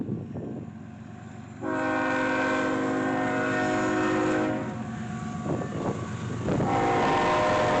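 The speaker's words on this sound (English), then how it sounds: "Another eastbound NS stack train, led by a pair of ES44 ACs, came by" An eastbound Norfolk Southern stack train led by two ES44AC locomotives sounds a loud, sustained multi-chime horn blast that cuts off briefly and resumes, over a steady low rumble of engines and rolling cars.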